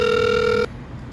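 A Hikvision IP video door phone intercom kit sounds its bell: a loud, steady electronic tone held for just over half a second, then cut off abruptly, leaving only quiet room noise.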